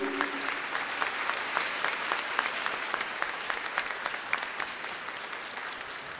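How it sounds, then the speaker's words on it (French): A congregation at a Catholic Mass claps steadily for several seconds, the dense patter fading slightly toward the end, with no speech over it. "on les applaudit bien fort"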